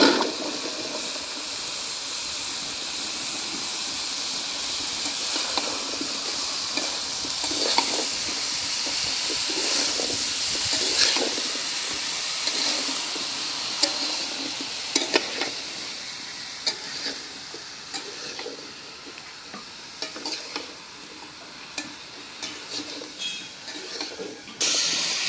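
Gourd and potato pieces frying and being stirred in a spice paste, giving a continuous bright sizzle with scattered scraping clicks from the stirring throughout.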